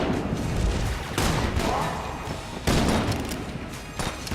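Rapid gunfire from the top-down shooter game Enter the Gungeon, a quick-reloading gun firing dense, loud bursts that run almost continuously, with brief dips between volleys.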